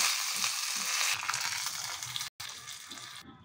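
Curry leaves sizzle and spit in hot oil already holding mustard seeds and dal: a loud, close, continuous frying hiss with a brief break partway through, and no talking.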